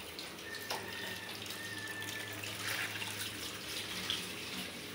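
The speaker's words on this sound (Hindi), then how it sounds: "ये अब मैंने इसमें पानी शामिल कर देने लगी हूँ, तो ये अब इसी पानी में पक जाएगा" Water being poured into a cooking pot, a steady close rushing and splashing stream that runs for several seconds at an even, moderate level, with no talk over it.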